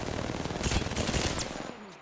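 Rapid automatic gunfire in Apex Legends, a dense, loud stream of closely spaced shots lasting about two seconds before cutting off.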